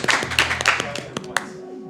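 Scattered audience clapping at a live Super Metroid speedrun race event, a few sharp hand claps popping out at irregular intervals, fairly quiet, with a person talking over them.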